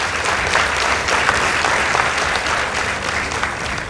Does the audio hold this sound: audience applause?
yes